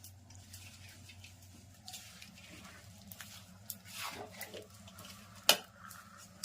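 Coconut mixture for gundar pak being stirred in a metal pot, with soft scraping and occasional clinks of a utensil against the pot, faint and close, ending in one sharper knock.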